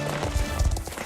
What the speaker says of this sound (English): OMG, horse.